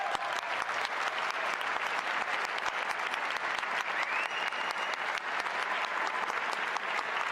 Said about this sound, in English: I knew I wouldn't be able to stop that applause.